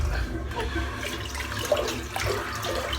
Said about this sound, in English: I'm going to empty this water because it's a bit filthy in it.